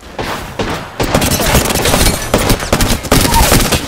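Gunfire in Apex Legends, including Prowler shots: rapid, loud volleys of shots crackle almost continuously with heavy impacts, close and intense, with no clear talk over them.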